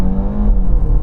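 A new BMW X1 launching from standstill and accelerating hard, a loud, close engine drone with a steady low rumble and rising tone over about a second.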